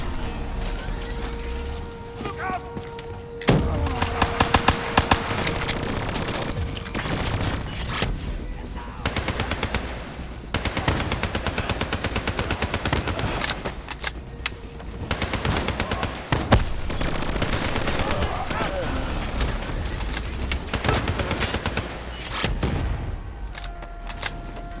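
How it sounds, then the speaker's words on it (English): Dense, sustained gunfire from Call of Duty: Black Ops 3 as the player shoots down valves, with rapid bursts of shots and loud, continuous game combat noise. "Use your environment. Shoot down those valves."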